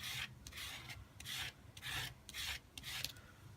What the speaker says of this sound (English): just scrape off the excess, put it back in your little container